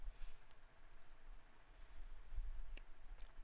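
A few faint, sparse computer mouse button clicks sound over a low background hum.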